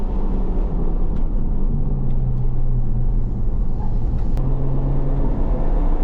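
A Honda Civic Type R FK8 drives a lap on a wet race track, heard as a loud, steady in-car engine drone with road rumble and shifting engine tones.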